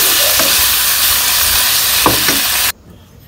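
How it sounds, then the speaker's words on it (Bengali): Spiny gourd (kakrol) slices fry in hot oil in a pan, a loud steady sizzle with a few stirring scrapes, cutting off abruptly near the end. "এই পাশে যে কাঁকরোল ভাজা বসাইছি"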